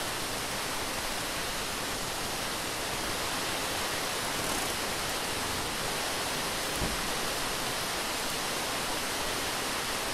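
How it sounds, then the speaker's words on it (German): Steady broadband rushing of a large river flowing in the video game Jalopy, a continuous loud wash of water filling the whole stretch with no talk. "Ein großer Fluss"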